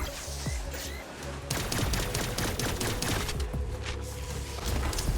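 Pistol gunfire in the video game Cygnus Enterprises: a steady stream of rapid, crisp shots over a busy droning game background, loud and continuous after a short quieter opening.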